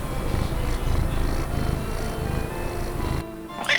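Pet cat purring steadily while being held, a low continuous rumble close to the microphone that cuts off near the end.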